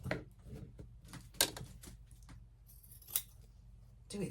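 Scissors snip at the fabric corners of an apron, a series of quiet, close crisp cuts spaced irregularly over a faint steady background hum.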